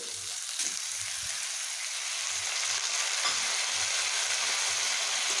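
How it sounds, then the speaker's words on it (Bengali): Washed dal and half-fried vegetables sizzle together in a pan, a steady, loud frying hiss lasting throughout, with occasional soft low knocks of stirring. "এবার ডাল ও সবজিগুলোকে আমি আবার একসঙ্গে ভেজে নেব"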